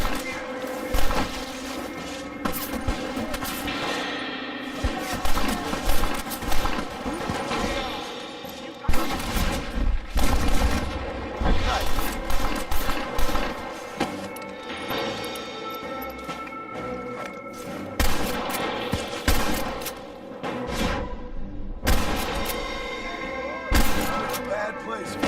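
Gunfire crackles through a Red Dead Redemption shootout, with repeated shots and bursts scattered across a busy, dense mix of game sound and music, and voices occasionally speaking over it.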